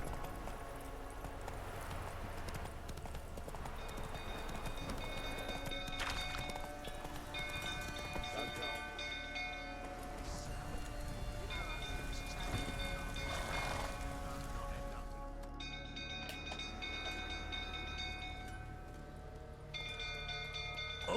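Roach the horse gallops in The Witcher 3, a steady run of hoofbeats carrying on for a long stretch over a dense bed of rain and ambient sound, with no voices.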